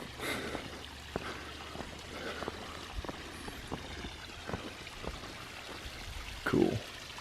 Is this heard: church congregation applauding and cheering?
no